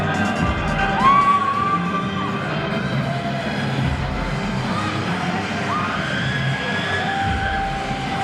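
A wrestling crowd cheers and shouts for Jimmy Wood's entrance at a Pandemonium event, a loud continuous roar with whistles and shrill rising yells over the din.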